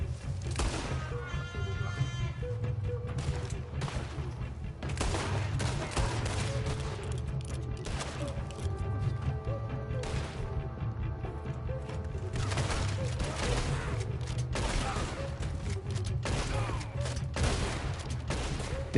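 Gunfire in the video game Red Dead Redemption 2: a sustained fusillade of loud, overlapping shots and bursts over nearly twenty seconds, dense and continuous with sharp cracks throughout.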